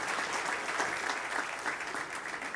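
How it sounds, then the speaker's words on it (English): A crowd applauds at the Moreno Valley State of the City 2023 awards ceremony, a steady, dense wash of many hands clapping that runs the whole moment without pause. "Can we get a round of applause for the magic hand?"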